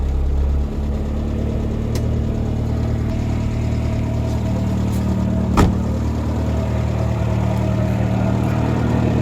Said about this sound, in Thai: ตาร์ทเครื่องให้ดูครับ